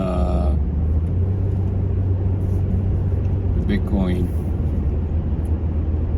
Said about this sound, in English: sorry, there's a lot of traffic here